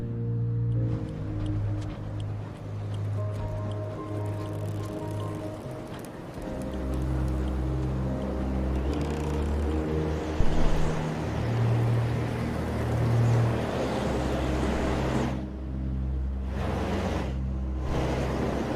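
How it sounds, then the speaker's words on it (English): Wind in Sunless Skies sweeps up as a broad, steady whoosh over a low droning hum and sustained game music tones, with gusts swelling and fading toward the end. "When did this wind kick in?"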